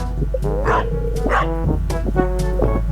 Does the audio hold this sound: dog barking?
yes